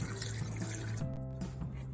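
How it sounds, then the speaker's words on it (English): Water pours into a pressure cooker pot while ropa vieja is being made, a steady close splashing stream that runs briefly before thinning into a lighter trickle. "now we're adding the water in here."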